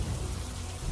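Heavy monsoon rain in Mundra, Gujarat, pours in a steady, dense hiss with a deep low rumble underneath, continuous and unbroken for the whole moment with no voices.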